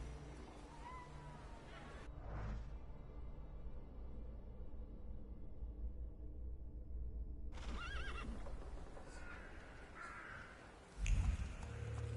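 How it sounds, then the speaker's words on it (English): Horse in the video game The Thaumaturge whinnying, with a neigh near the start and another burst of horse sounds later, set over quiet ambient game audio and ending with a brief thump. "I meant to take the horse out for a ride"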